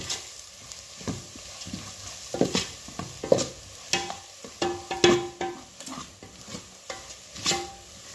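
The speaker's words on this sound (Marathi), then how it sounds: "हळद घालते मालवणी मसाला आता हे मसाले छान परतून घेऊया" Turmeric and Malvani masala spices are sautéed in a pan, with a steady sizzle broken by repeated spoon stirs and scrapes against the metal, close and fairly loud, with no voices.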